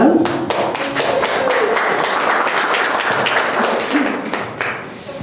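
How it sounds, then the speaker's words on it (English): An audience at an arts exhibit event gives a round of applause, loud close clapping with individual claps audible, over a faint background voice and a low tone. "Give them a round of applause."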